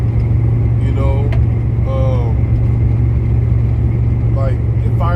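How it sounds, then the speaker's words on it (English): A pickup truck with a stage 2 cam idles very low, giving a steady deep rumble close by, while a person talks over it intermittently. "my truck right now is idled super low just so I can hear the cam"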